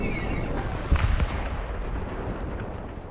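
A rocket launcher shot ends in a short, muffled explosion in the Fortnite video game, followed by a long, noisy rumble that slowly dies away.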